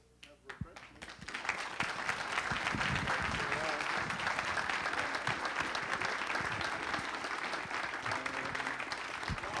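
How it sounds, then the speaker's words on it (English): An audience claps in sustained applause after a talk at a computer history museum event, a dense, steady roar of hands that swells within the first two seconds and holds loud and even throughout. "Also, one last round of applause for Dag Spicer of the museum who organized i"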